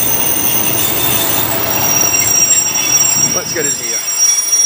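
Class 142 diesel multiple unit arriving at a little-used West Yorkshire or Lancashire station on a service to York, its wheels squealing loudly against the rails. The noise rises steadily and holds near the listener, and someone speaks briefly over it.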